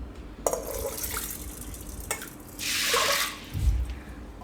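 Water poured over washed jowar in a pressure cooker: a short splashing pour that swells and fades, after some light clatter and drips from handling the vessel.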